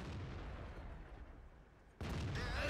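A tank cannon fires in World of Tanks, the sound of a battle involving an FV4202: a low rumbling background gives way to a sudden heavy boom, followed by a sustained roaring blast with a rattling, crackling edge.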